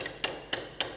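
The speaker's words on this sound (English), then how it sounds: "just a couple taps of a hammer, you can see it's starting to roll over already" Hammer striking 18 gauge sheet metal while rolling over an edge on a 1952 Chevy Farrar fire truck restoration, three sharp metallic taps evenly spaced about a quarter second apart, close and clear.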